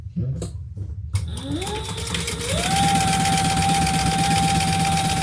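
A sewing machine bastes a waist pack lining with steady, rapid stitching that starts up after a moment and runs continuously near and loud, with a voice speaking early on.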